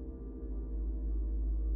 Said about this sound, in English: I'm using these to drive four texture synthesizers, the cloud modules.